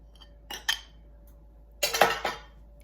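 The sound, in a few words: spreading enchilada sauce over casserole with utensil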